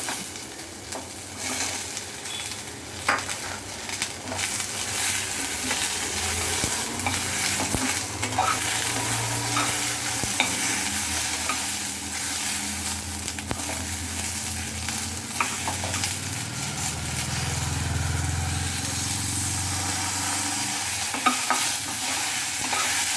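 Bottle gourd, tomato and a piece of ginger sauté in a pan for a coconut-free chutney, with a steady sizzle under repeated scraping and stirring strokes throughout.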